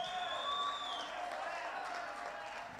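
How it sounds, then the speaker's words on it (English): An audience claps steadily at a political discussion event on getting more women into party politics, a soft continuous patter of applause with voices mixed in. "Keep on clapping."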